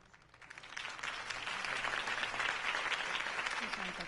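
A crowd applauds a Harvey Dent campaign speech in Batman: The Telltale Series, with steady, dense clapping that swells within the first second and holds loud and even to the end.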